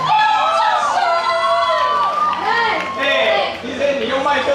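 A crowd at the 2018 Kaohsiung beer music festival cheers and shouts in overlapping excited voices, loud and sustained for several seconds with no distinct clapping.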